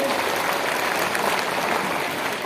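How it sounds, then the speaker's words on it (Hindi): Dense, loud applause from an audience at a product presentation in India, an unbroken roar of many hands clapping at a steady level throughout, with no speech. "एक बार जोरदार तालियां चाहूंगा इस प्रोडक्ट के लिए"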